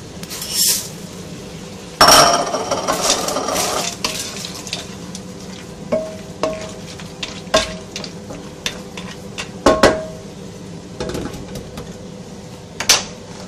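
Spiral pasta stirred into a skillet on the stove, with a spoon scraping and clinking against the pan over a soft sizzle, loud irregular strokes spread through the clip, with no talking.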